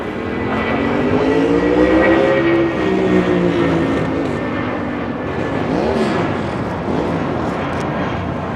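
An airplane takes off from runway 25 right at LAX, its engine roar loud and sustained with a rising and falling whine throughout.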